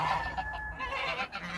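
Chickens on a farm cluck and murmur in a dense, continuous jumble of close, warbling calls with a steady rustle beneath.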